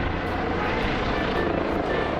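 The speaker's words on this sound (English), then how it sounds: "The helicopter continued to hover" A helicopter drones steadily overhead, its rotor producing a loud, continuous thrumming pulse with no break.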